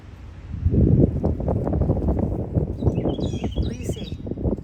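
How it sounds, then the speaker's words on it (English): A red cardinal singing outdoors on a fine morning, a few faint, brief whistled chirps in the latter half over strong wind rumble and rustling. "You see, that's the red cardinal singing."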